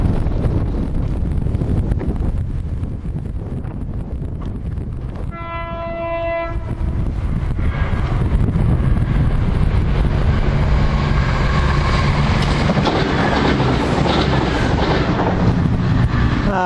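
A Class 170 passenger unit passes a level crossing, building from a distant rumble into a loud, close roar of wheels and rails. A horn sounds briefly partway through, and wind buffets the microphone throughout.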